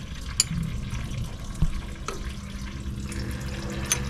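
Brake fluid trickles steadily from an opened bleeder screw on a 2018 Nissan Frontier pickup during a pressure flush, a continuous faint liquid flow with a few small clicks and drips over low workshop hum.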